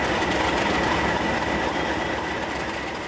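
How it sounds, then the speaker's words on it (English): A locomotive hauling an empty iron ore train rumbles steadily from inside the front cab, a loud continuous roar with faint rhythmic wheel clatter underneath. "We are now in the front cab of a locomotive hauling an empty iron ore train"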